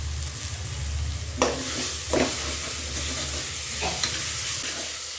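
Mint and coriander leaves fry in a pan for a kushka rice dish, giving a steady sizzle broken by a few sharp scrapes and stirring clanks.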